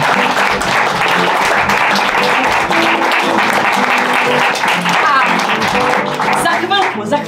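Sustained, dense applause from a theatre audience at an improvisational comedy match, loud and continuous clapping throughout with some crowd noise mixed in.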